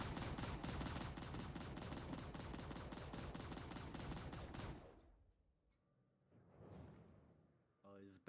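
Spaceship weapons fire in Star Citizen: a dense, rapid stream of loud repeating shots runs for the first half, then breaks off into quieter, scattered whooshes and blips.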